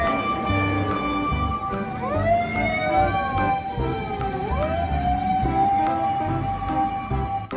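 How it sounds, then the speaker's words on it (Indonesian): Toy fire truck siren wailing continuously with rising and falling electronic tones, loud and close, filling the whole stretch with no voices. "Wah, ini fire truck, mobil pemadam kebakaran."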